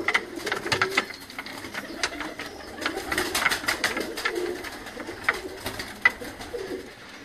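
Pigeons coo close by in a steady, overlapping chorus, with soft wing flutters and shuffling mixed between the calls throughout.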